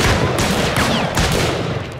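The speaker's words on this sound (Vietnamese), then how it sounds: "Vậy thì mình cũng phải bắn nó thôi, tự vệ mà." Rapid gunfire from a zombie shooter video game, a dense burst of overlapping shots and booms filling the whole moment, loud and close with no talking.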